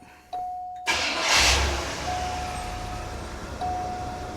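A 1980 Cadillac DeVille engine fires up with a sharp start, then settles into a steady, close, loud idle with a warning chime ringing intermittently over it; no one talks.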